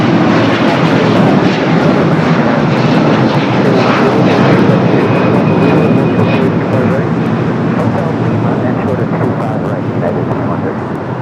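An airliner passing at LAX makes a loud, sustained jet roar that holds steady and fades slightly at the end, with voices talking beneath it.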